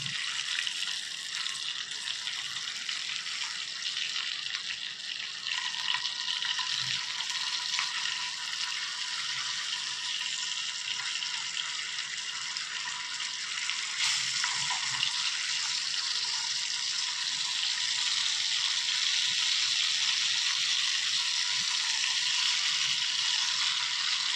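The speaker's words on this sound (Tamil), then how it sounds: "எனக்கு பிடிச்சமான நெய் மீன் கருவாடு பாருங்கள் பொரிஞ்சிக்கிட்டு இருக்கு" Dried ghee fish karuvadu fries in a pan with a steady, hissing sizzle that stays even throughout and grows slightly louder toward the end, with no talking.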